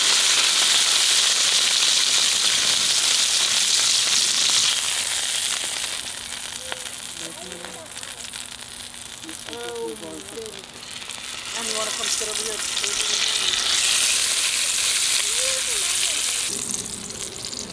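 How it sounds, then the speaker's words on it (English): Ribeye steak searing in hot bacon fat on a pan set over an offset smoker's firebox, a loud broad sizzle that dips midway while faint clicks and spits come through, then swells again near the end. "A little bit of bacon fat in here, actually, so sitting over the firebox, nice and hot. Let's sear this off."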